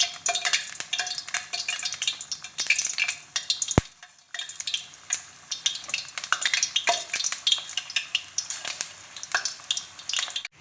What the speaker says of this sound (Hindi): अब हम इनको फ्राई करते हैं। चलें सबसे पहले हम पकौड़े फ्राई कर लेते हैं।